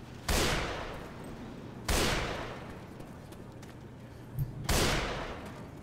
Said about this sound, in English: I don't understand why the zombies don't react to the gunshots